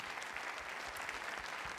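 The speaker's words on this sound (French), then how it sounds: "Vous applaudissez les vignerons de Buzet parmi les nommés, s'il vous plaît." An audience applauds the Buzet winemakers among the nominees at a departmental council ceremony, a brief, even burst of many hands clapping at moderate distance.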